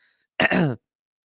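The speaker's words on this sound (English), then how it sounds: "I'm coughing." A single short throaty cough or throat clear, close and fairly loud, surrounded by silence.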